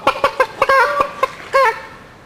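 A chicken clucks in a short run of sharp, bright calls, several quick clucks followed by a couple of longer drawn notes, close and clear over quiet outdoor surroundings on a village walk in France.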